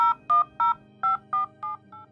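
A telephone number is dialed on a keypad: seven clear, evenly spaced touch-tone beeps, quiet and close, with no talking.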